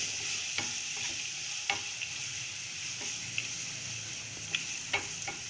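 Fennel seeds sizzle steadily in hot oil in a pan for a chana masala curry, with a few sharp scrapes and clicks as a spoon stirs them every second or so.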